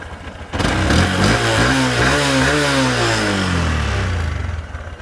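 A Honda CB125F motorcycle engine runs steadily and loud at close range after an oil change, settling into a fairly even idle with slight wavering in pitch.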